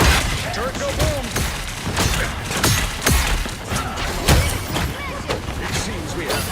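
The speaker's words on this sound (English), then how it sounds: "Turret go boom!" Turret explosion in Marvel Rivals amid a busy firefight, with several loud thuds and booming hits scattered through dense gunfire and crackling effects, with game voices faintly present.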